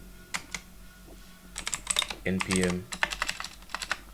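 Keystrokes from typing terminal commands on a computer keyboard, irregular clicks in short bursts, close and clear, with a brief spoken word in between.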